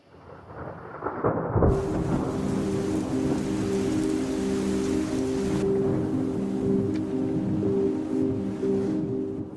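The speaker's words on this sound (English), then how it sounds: "It's a stormy night." A thunderstorm sound effect opens on a sharp crack of thunder that rolls into steady heavy rain and a low rumble, continuous and loud throughout with no talking.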